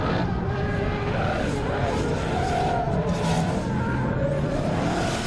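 Two BMW cars, a 3 Series Touring wagon and a coupe, in a drift duel, steady loud engine roar with tire skid and squeal throughout, heard from trackside.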